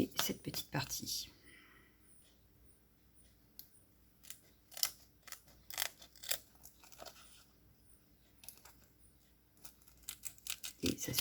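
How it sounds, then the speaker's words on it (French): Sharp scissor snips cut a small piece of tack'n peel material, several separate crisp cuts spaced irregularly and heard close up, with quiet pauses between them. "je prends mes ciseaux et je viens découper cette petite partie"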